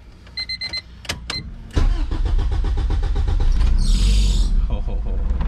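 A Honda Civic with its battery removed gives a few short beeping chimes, a brief starter crank and then catches, settling into a loud, close, steady idle with a high whine rising briefly near the end.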